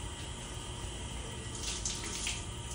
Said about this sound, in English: and just wash your hands